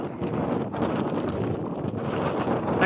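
Wind gusts buffet the microphone on a beach at Giftun Island near Hurghada, Egypt, a continuous rumbling rush that swells and dips without any voices.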